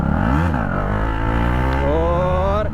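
A modified KTM Duke 250 motorcycle revs hard for a wheelie, its engine note climbing and falling in pitch, then rising again in a loud, continuous close-up drone.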